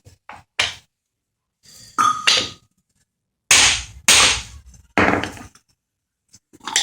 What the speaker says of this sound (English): Use your hammers, guys. Those are awesome tools.